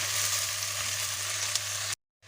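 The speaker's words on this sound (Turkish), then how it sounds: "Barbunyayı da biraz kavuracağız" Borlotti beans sauté in a hot pan for Turkish barbunya stew, a steady close sizzle and crackle that cuts off abruptly near the end.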